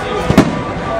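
A single firework bursts with a short boom amid steady outdoor background noise.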